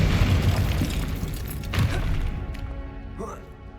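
Explosive Confringo blasting spell in Hogwarts Legacy: heavy booming blasts and rumbling thuds fill the first few seconds, loud and close, then trail off into a fading crackle.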